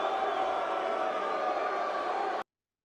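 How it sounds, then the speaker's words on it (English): Wrestling arena crowd roaring for The Rock on his return, a loud, dense sustained swell of cheering and whooping that cuts off abruptly after about two and a half seconds. "And listen to the crowd."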